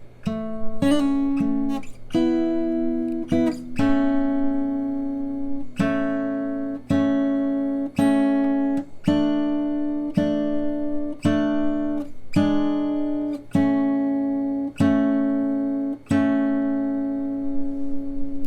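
An electric guitar picks a melodic line from a riff, a steady series of plucked notes with a repeating low bass tone beneath, played close and clean without talk.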